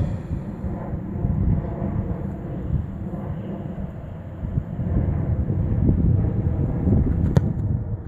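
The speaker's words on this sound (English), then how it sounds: "Still have that wind." Wind blowing across an outdoor football field during kickoff practice rumbles low and steady against the microphone, gusting a little stronger toward the end, with no voices.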